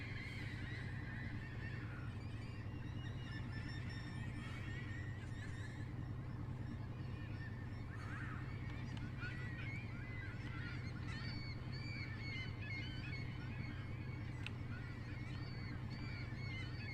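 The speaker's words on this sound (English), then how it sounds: "these birdies are having so much fun" Geese honk repeatedly in the Fishing Barents Sea video game, with overlapping calls over a constant low engine-like drone, fairly faint and continuous throughout.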